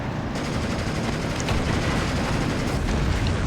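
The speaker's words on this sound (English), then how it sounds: "So our first Panzer goes off and gets a direct hit" Panzer tank shot striking a StuG in Steel Division 2 battle, heard amid a constant loud din of rattling gunfire and explosions, with a few sharper cracks standing out.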